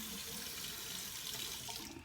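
Hot water runs steadily from a bathroom tap onto a razor blade, a continuous close hiss and splash with no talking.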